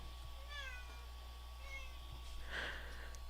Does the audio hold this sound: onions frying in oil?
no